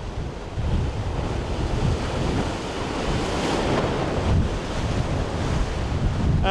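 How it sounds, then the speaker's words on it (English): Strong wind roars and buffets the microphone alongside crashing surf on the Maltese coast in stormy weather, a loud, continuous rush with gusty swells and no speech. "it's really windy out there, getting right to the peak"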